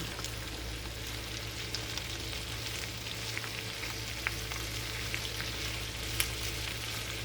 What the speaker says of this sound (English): We're going to wilt our spinach into this pan.